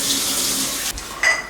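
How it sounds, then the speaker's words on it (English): Hot water runs from a kitchen tap over glass jars in a steady, close rush, briefly interrupted near the end and then splashing again. "I'm gonna run these jars under hot water and warm them up."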